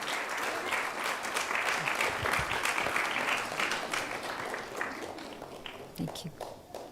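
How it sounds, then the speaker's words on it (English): Sustained applause from an audience at a Sunday feast program, steady clapping that swells and then thins out toward the end, with some crowd murmur. "Please give them a big round of applause."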